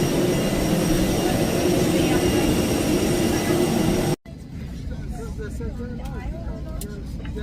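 An EasyJet airliner's jet engines roar as a loud, steady broadband drone, which cuts out abruptly and gives way to a quieter cabin hum.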